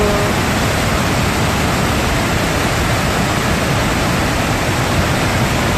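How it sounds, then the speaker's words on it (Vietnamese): A loud, swollen stream in flood in Vietnam rushes as a steady, dense roar of water that fills the whole stretch without pause and without any voices. "suối ở Trung Ba rất là to nhá"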